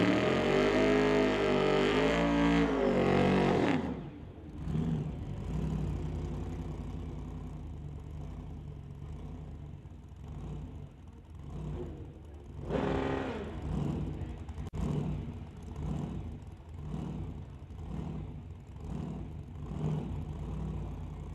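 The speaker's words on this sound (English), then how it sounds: "Burnout's fully complete." A drag racing car's burnout on a drag strip at a street car event. It starts with a loud, sustained engine roar, which cuts to a lower idling rumble and then comes back in rising and falling revs.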